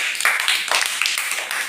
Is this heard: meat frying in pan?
no